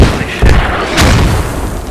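Mortar rounds from a tactical multiplayer squad game burst in a series of loud, deep booms and thuds, with two sharp impacts standing out among a continuous rumble of distant bombardment.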